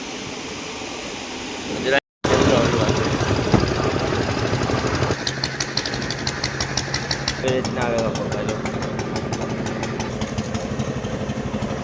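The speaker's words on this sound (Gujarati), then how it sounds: "જો આ બોટ નીકળે અહીંથી" A fishing boat engine chugs loudly and steadily close by at Okha port, with a rapid knocking rhythm, after a brief cut, and a few spoken words near the start.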